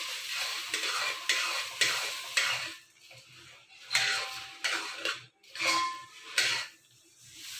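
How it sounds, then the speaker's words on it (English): Puffed rice (pori) being stirred continuously in a pan for a Karthigai Deepam festival sweet, a dry rustling, scraping stir in repeated bursts with short pauses, close and steady, no talk. "So just add it and stir it continuously."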